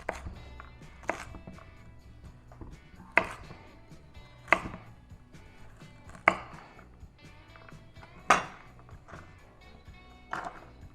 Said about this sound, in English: Same thing with the carrots. I like the baby carrots, they're just easier to handle.